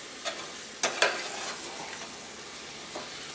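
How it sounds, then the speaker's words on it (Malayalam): Chicken masala curry is stirred in a pan, with a few scraping spoon strokes over a soft, steady simmering sizzle, close by and fairly quiet. "ഈ കറി നമുക്കൊന്ന് ഇളക്കിയിട്ട് കൊടുക്കാം."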